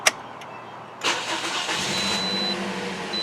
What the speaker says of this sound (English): Listen to the cranking sound